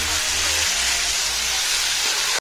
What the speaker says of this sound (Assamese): মাছখিনি দি ল'ম। ভালদৰে লাৰি ল'ম।